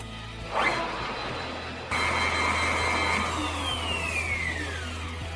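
An electric router starts up and runs steadily in an aluminium router table, a loud continuous whine that spins up, holds and then slowly winds down in pitch toward the end.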